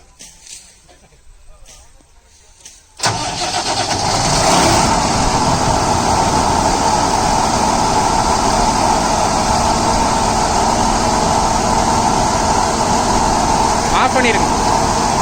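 Case IH Austoft 4010 MAXX 180 HP sugarcane harvester engine cranks and fires after a quiet start, then settles into a loud, steady diesel roar that holds close by for the rest of the clip.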